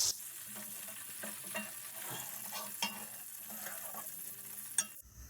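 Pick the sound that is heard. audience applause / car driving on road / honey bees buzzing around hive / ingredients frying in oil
ingredients frying in oil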